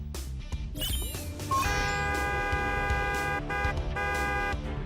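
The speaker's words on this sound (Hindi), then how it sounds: "इस हॉर्न की आवाज से भी मॉडल पर कोई असर नहीं हुआ।" A car horn blares in a few sustained honks, separated by short gaps, following some clattering noise at the start, in a children's cartoon.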